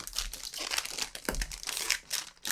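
Foil pack of Premier League football trading cards being torn open and handled, a steady close crinkling and crunching rustle with sharper tearing bursts throughout, no speech.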